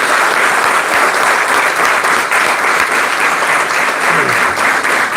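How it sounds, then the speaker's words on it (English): Loud, steady audience applause from cadets and guests at a passing-out parade fills the whole stretch, a dense, even roar of many hands clapping together without pause. "Just give a round of applause."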